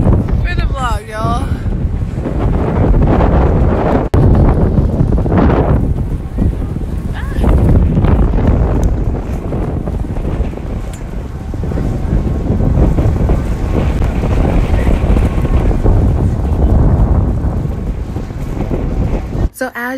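A sailboat cruises off Hawaii while heavy wind buffets the microphone. Rushing water and a constant roar fill the whole clip loudly and up close, with voices faintly mixed into the noise.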